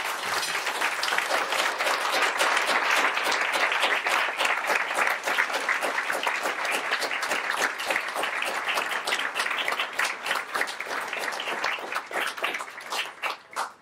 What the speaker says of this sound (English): Would you be kind enough to stand up for a round of applause?